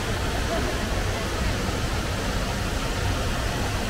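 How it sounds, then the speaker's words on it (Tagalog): Broad steady rushing of Haew Su Wat Waterfall in Thailand, a dense continuous roar of falling water filling the whole clip at even loudness with no clear voices. "Meron din doon mini waterfalls"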